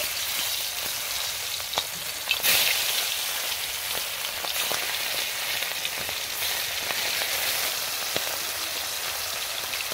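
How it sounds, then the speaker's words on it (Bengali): Fish frying in hot oil, a loud, steady crackling sizzle throughout with small sharp pops and brief bursts of spattering, close up and with no voices. "তেলটা ভালোভাবে গরম করে নিছি। এখন একটা একটা করে মাছগুলো ছেড়ে দেব।"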